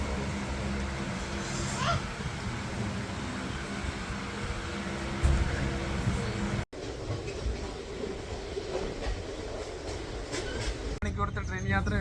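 A passenger train rolling on rails through rice fields in Tamil Nadu near Dharasuram station, with a steady broadband rumble and rattle from inside the carriage, an abrupt cut midway, and faint voices mixed in.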